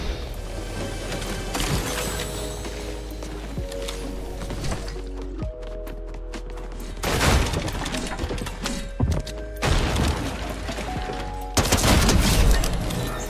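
Rapid bursts of Fortnite gunfire fill a loud, busy solo match, with dense volleys and sharp impacts clustered in several heavy stretches over steady game noise.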